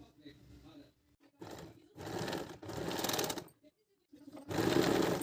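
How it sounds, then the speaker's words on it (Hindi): A sewing machine stitches a woolen salwar belt in several short bursts of fast needle rattle separated by pauses. The stitching is close, and there is quiet background between bursts. "पहले हम इसको सिल के तैयार करते हैं।"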